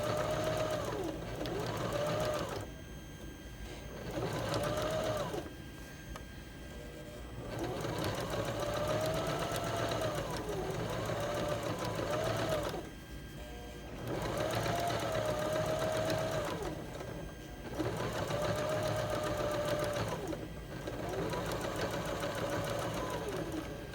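A sewing machine runs stitches through fabric for gathering in repeated bursts of fast, close, even whirring, separated by short pauses.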